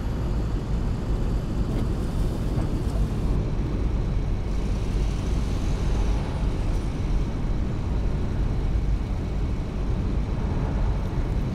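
Steady, loud rumble of a bus engine in a driving video game, with rushing outside air through an open window, a continuous low roar with wind noise throughout and no talking.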